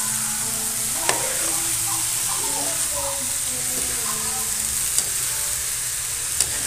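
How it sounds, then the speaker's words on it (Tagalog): Spicy chicken with vegetables sizzles steadily in a pan while being stirred, the close frying hiss broken by a few sharp utensil clinks against the pan. "Haluin lang natin siya."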